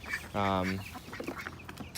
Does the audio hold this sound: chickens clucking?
yes